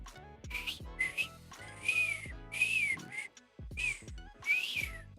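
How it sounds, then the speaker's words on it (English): A person tries to whistle, producing short, breathy wavering tones in several uneven bursts over a soft tonal background, close and fairly quiet. "I can't whistle."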